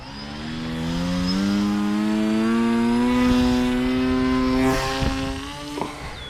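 An FPV drone, a Reptile Dragon 2 fitted with 9-inch 9045 props on a 3S battery, throttles up with a loud, steady, rising motor whine held near the listener for several seconds, then easing off with brief fluctuations.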